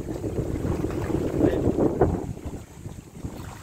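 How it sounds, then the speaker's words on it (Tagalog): Strong wind at a shore at Banawang, Bagac, Bataan, buffeting the microphone in a low continuous roar that swells and eases, loud and close, with no talking. "Sobrang lakas ng hangin."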